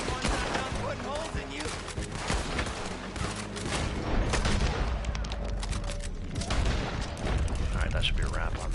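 Gunfire from Red Dead Online plays in a dense, continuous barrage of shots and booms, loud and close, with a voice speaking over parts of it.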